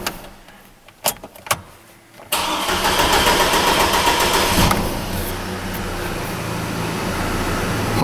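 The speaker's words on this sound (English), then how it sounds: "Truck is running with no check engine light." Chevy Colorado pickup with its cam sensor unplugged: a few quiet clicks, then the engine cranks and catches with a loud start, settling into a steady close idle that eases slightly in level.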